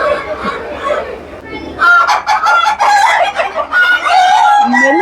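Ornamental chicken breeds such as Polish caps and millefleur bantams cluck and crow at a Wayanad flower show. Soft clucks open, then loud, close, repeated crowing and squawks follow in quick overlapping bursts.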